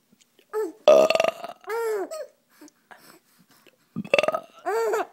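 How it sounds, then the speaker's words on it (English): A young boy burps loudly and close, several drawn-out croaky belches separated by short pauses, with brief bits of vocal sound between them. "Oh no, I gotta burp again."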